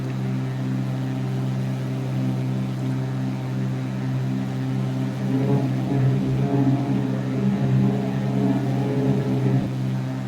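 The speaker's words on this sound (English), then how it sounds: "I just heard your engine, your props." Aircraft engine and propeller drone from the X-Plane flight simulator, a loud, steady, tonal hum with a rise in intensity and texture partway through, no talking.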